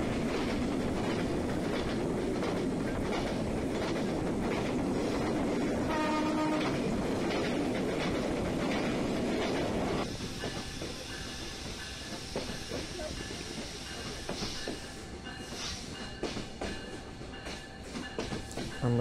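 The new Jahanarabad Express passenger train runs on the Khulna to Dhaka line, a loud continuous rumble with rhythmic clickety-clack and hiss that eases slightly midway, with faint voices underneath.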